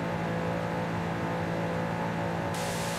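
Stock hypercar engine in Forza Horizon 5 holds a steady loud drone under heavy throttle, close and continuous with no voices.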